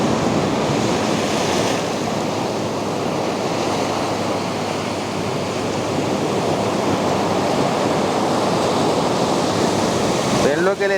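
Sea water surging through the coastal rock tubes at Manatí, a loud continuous roar of churning surf and wind, steady and unbroken throughout.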